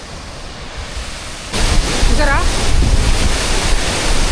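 A waterfall at Araku roars as a loud, steady rushing wash that jumps in volume partway through, with someone speaking briefly over it.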